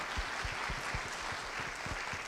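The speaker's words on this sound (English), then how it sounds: "A round of applause, please." Audience at an evening panel event applauding, a steady wash of clapping with individual near claps audible, even and moderately soft across the whole clip.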